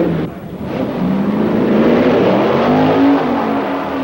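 Two 1964 drag racing cars, a Dodge and a Plymouth, roaring loudly down the strip with a sustained engine drone whose pitch climbs as they accelerate past.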